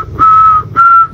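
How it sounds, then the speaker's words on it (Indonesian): A person whistles two sustained, steady notes in a row, separated by a short pause. The whistle is clear and close, with no talking. "Apaan sih bersiul-siul?"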